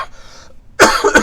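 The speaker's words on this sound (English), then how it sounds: "Still coughing." A faint breathy noise, a short pause, then a single loud, harsh cough with a second rasping burst close to the mic.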